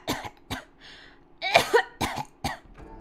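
Okita, a character in the video game Hakuoki: Kyoto Winds, coughing in a close run of sharp, separate coughs and throat-clearing bursts, some short and some raspier, with brief breaths between them and no talk.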